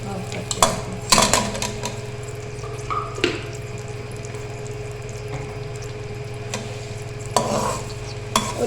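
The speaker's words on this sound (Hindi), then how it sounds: "हमने प्याज को कोई डार्क ब्राउन लाइट ब्राउन नहीं करना, गोल्डन ब्राउन, सिर्फ थोड़ा सा इसको सौते करना" Onions being sautéed in about half a cup of oil in a pot for rice, stirred with a utensil: intermittent scrapes and metal clinks over a steady low hum, with no loud sizzle.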